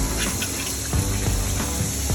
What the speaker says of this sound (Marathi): पहिला स्वच्छ धुवून घ्यायचा माठ आतून बाहेरून